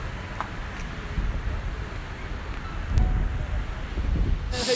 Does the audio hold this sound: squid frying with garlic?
no